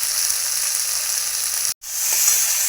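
Cooked spice masala for a banana-flower curry sizzles in a pan, a steady close hiss that cuts out briefly and then surges back as water is poured in.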